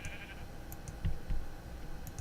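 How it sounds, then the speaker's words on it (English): Minecraft sheep bleat in short, clear calls, about two distinct bleats in the middle over a faint ambient hum, close and moderately loud. "Everywhere I look, there's just like a bajillion sheep."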